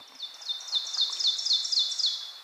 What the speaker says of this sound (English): Thank you for identifying the oven bird with us.